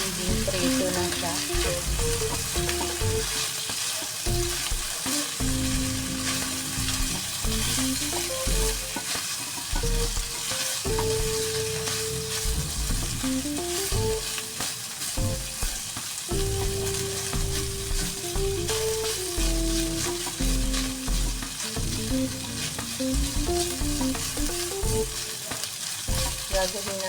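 Steady, dense sizzling of chicken frying in hot oil continues throughout, with occasional stirring noises and faint background music.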